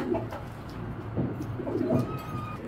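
Racer pigeons at a loft give soft, low, throaty coos in short repeated bursts, close by and fairly quiet, with light rustling and faint background noise between calls.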